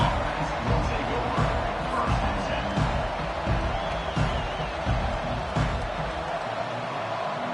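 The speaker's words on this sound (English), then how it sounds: "They challenge this crowd to bring the energy, and I'd say they're doing that." A stadium crowd roars and cheers in the NCAA 25 college football video game, a continuous loud wash of noise under a commentator's voice.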